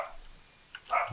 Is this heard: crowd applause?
no